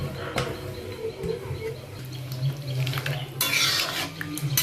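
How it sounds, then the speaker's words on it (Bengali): A spoon scrapes and stirs through potatoes and mutton curry in a cooking pot for a Bengali honey mutton kosha. The stirring comes as close, uneven scrapes and clinks over a steady low kitchen hum. "ভালো করে একটু নাড়িয়ে নেওয়া হচ্ছে।"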